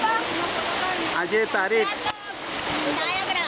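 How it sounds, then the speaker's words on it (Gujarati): Steady roar of rushing water from Chimer waterfall in Dang, Gujarat, a broad continuous hiss heard under voices, with people talking briefly over the falling water. "અમે ચિમેર ધોધ જોવા આવ્યા છીએ અને આ સામે દેખાય છે ચિમેર ધોધ."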